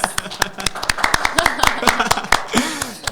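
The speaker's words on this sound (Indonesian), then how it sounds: "Mungkin ini patut dikasih aplaus." Applause from an audience at a student achievement talk show, a brief burst of clapping mixed with voices and light laughter, fairly close.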